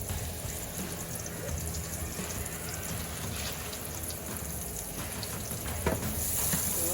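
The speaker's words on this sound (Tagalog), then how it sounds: "After that, I cook my mushroom." Brown mushrooms fry in a pan for a creamy carbonara, making a continuous, even hiss of sizzling at moderate loudness, with no pauses and only faint scraping underneath.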